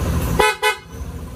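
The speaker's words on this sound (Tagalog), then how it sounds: "Busina." A PIAA horn fitted to a Kymco Xciting VS 400i scooter sounds two loud, close blasts: a short honk followed by a slightly longer one, with quiet background around them.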